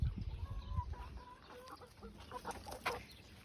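Chickens cluck softly and repeatedly near and far as they are herded into their coop in a garden in the evening, a steady murmur of fowl calls.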